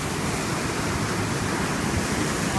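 Pacific Ocean surf at Sunset Point in San Diego, California, sounds as a loud, dense, continuous roar of breaking waves with wind rushing across the microphone.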